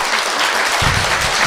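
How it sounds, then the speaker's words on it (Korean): A studio audience applauds loudly at the close of a Korean talk show segment, dense continuous clapping close to the microphone with a low thump partway through. "박수 부탁드립니다."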